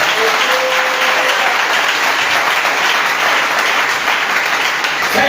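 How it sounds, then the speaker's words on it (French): Dense, steady applause and cheering from a church congregation acclaiming the Lord during a French-language sermon, a loud continuous wash of clapping with no speech. "Je veux que tu vas acclamer fortement le Seigneur."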